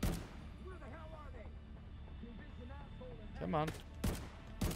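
Gunshots ring out in The Division 2, a few loud sharp cracks landing mostly toward the end over game ambience, with talk and chatter running underneath.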